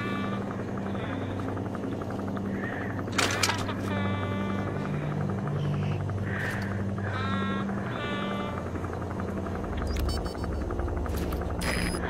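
A helicopter landing in the video game Metal Gear Solid V: The Phantom Pain, a steady rotor drone running throughout beneath sheep-like bleats, short tonal game beeps and bursts of other sounds.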